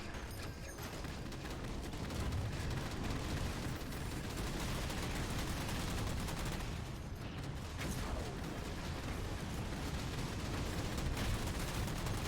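Continuous heavy gunfire and explosions in the video game Halo 4, a dense unbroken barrage at steady loudness for the whole stretch.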